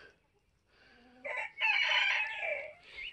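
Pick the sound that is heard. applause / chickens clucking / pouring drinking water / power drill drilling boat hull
chickens clucking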